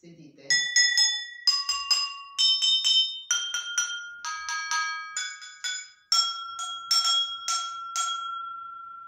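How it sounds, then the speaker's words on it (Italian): Seven drinking glasses from a grandmother's set are struck one after another, each ringing out a clear, bell-like tone at a different pitch, with bright close strikes and long fading rings in a quiet room. "volevo farvi sentire il loro suono. Allora, sette bicchieri, sentite."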